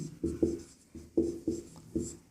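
Pen writing on paper during a Class 10 probability maths lesson: short scratchy strokes in uneven bursts, close and fairly quiet, with no talking over them.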